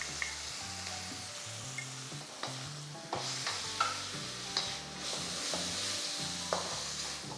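Szechuan sauce for Szechuan chicken noodles being stir-fried in a pan, with a steady sizzle and repeated scraping strokes of a spatula, close and moderately loud, no talking.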